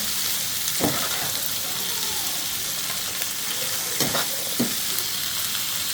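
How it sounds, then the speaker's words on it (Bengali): Fish frying in hot oil gives a steady close sizzle and hiss, broken by a few sharp stirring or turning knocks, with no talking. "মাছ একসাথে তেল দিচ্ছি একবারে ভেজে নেব"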